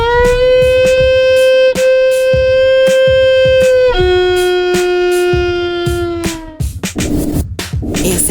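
A violin imitates a wolf's howl with long, sustained bowed tones that slide slightly in pitch, two drawn-out howls over a steady beat before trailing off into a brief rougher passage.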